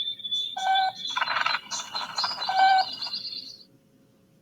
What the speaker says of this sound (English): There are a lot of birds out here, Moby.